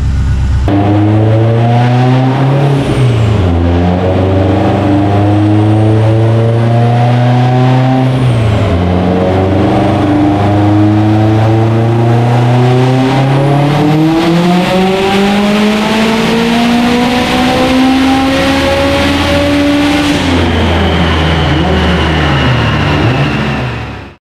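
A Subaru STI fitted with a 6466 turbo on a high-boost pull, its engine loud and close, climbing in rising harmonic sweeps through several gear changes for about twenty seconds before cutting off abruptly.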